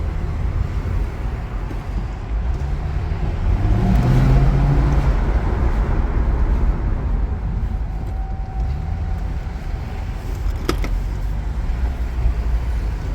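A high-mileage Chevrolet Corvette 2LT, nearly 200,000 miles, cruises along with a steady low road and engine hum inside the cabin, a brief rise in engine pitch and a single sharp tick near the end, otherwise quiet.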